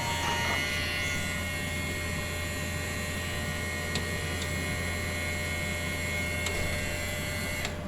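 A DTF printer's print head runs as a steady mechanical hum with a constant low drone and faint tonal whine, a few light clicks near the end, no voices.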